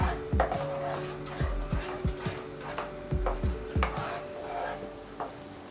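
A thick mango and milk-powder mixture for mango sandesh is stirred in a pan over a medium gas flame, with repeated scraping thuds and knocks of the spoon against the pan in an irregular rhythm, close and fairly quiet.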